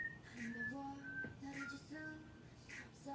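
A person whistles a faint, high, wavering tune in short phrases, with a softer lower tone running beneath it.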